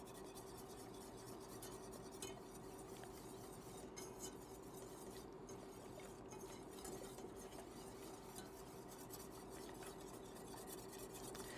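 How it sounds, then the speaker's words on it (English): Whisk stirring flour into a roux for shrimp bisque, a steady soft scraping and rubbing against the pot that runs continuously, low and fairly quiet, with no voices. "You always want to whisk the flour in there to break down any little lumps."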